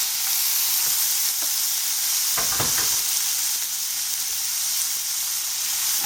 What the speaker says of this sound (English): And continue sauteing until the tomatoes turn soft.